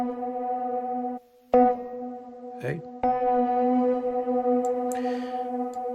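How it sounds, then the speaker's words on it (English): A sustained tonal sound is processed through a modulated reverb effect in Cubasis 3, its drone briefly cut out and then swelling back with wavering tails, while a voice speaks a word. "listen to the effect now, to the reverb tail"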